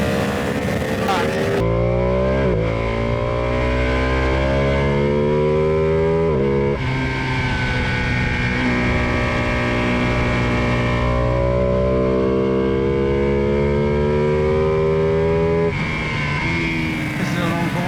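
A 2020 Ducati Panigale V2 ridden hard around the wide, flat Jerez MotoGP circuit in Spain, its engine loud and close, revving up in repeated rising sweeps broken by sharp gear changes, while a rider talks over it.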